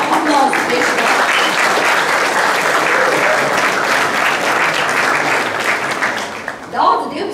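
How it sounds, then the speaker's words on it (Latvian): A crowd at a school graduation evening claps loudly and steadily for several seconds, then the applause thins out and fades toward the end. "jā, aplausi tieši tā"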